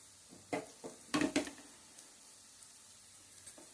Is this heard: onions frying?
yes